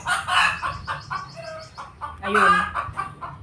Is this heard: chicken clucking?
yes